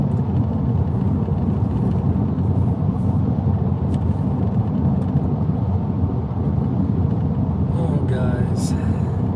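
A car rolls home at night, with a steady low road and engine rumble filling the cabin. A brief voice speaks near the end.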